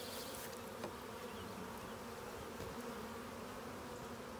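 Honey bees buzz steadily around a Layens hive, a dense, continuous drone of many insects close by with no speech over it.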